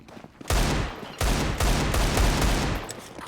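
Gunfire in Counter-Strike 2 on the Mirage map: loud, dense bursts of automatic shots in rapid fusillades, broken by brief gaps, close and dominating.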